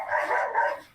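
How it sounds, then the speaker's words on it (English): A pet dog barks excitedly indoors, a quick string of about three close, sharp yips with no talk over them. "sorry about my dog going nuts"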